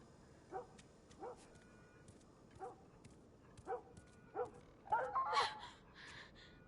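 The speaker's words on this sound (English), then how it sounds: "and then the dog just stopped barking." Dog in The Last of Us barking in short yips, five evenly spaced calls followed by a louder, busier cluster, faint over a quiet game background.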